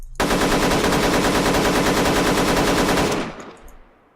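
A weapon in a first-person shooter game under development fires a sustained, evenly paced automatic stream of shots for about three seconds, then cuts off into a fading echo.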